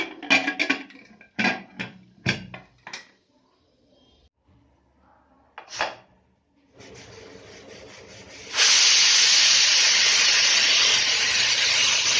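A few knocks and clatters, then a steady hiss swells into a loud, sustained rush of steam venting from a pressure cooker whistle while cooking dal.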